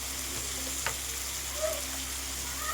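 Onions sautéing with salt in a home-kitchen pan for tomato thokku, a steady soft sizzle and fry hiss throughout, close and moderately quiet, with a few faint stirring scrapes and no talking.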